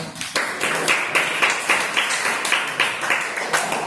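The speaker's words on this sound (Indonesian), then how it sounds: "kita kasih tepuk tangan untuk kelompoknya" A classroom group of students claps together for a student group, a steady run of sharp, closely spaced hand claps at moderate loudness from nearby, holding through the whole stretch with no talk over it.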